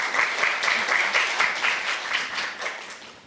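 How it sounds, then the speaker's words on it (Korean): Audience at a university carbon-neutral campus forum applauding to welcome four student panelists, steady sustained clapping of a mid-sized crowd with no talk over it. "박수로 맞이해 주시면 감사하겠습니다."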